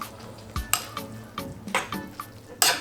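Cheap instant noodle soup stirred in a bowl, with a series of clinking, scraping utensil strokes against the dish in an uneven rhythm, close and fairly loud.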